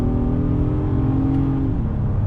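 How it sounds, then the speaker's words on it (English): A 2019 Acura MDX A-Spec SUV accelerating out of a corner, its engine droning loud and steady from inside the cabin, the pitch rising then dipping as it shifts. "Roll on the throttle and you just go."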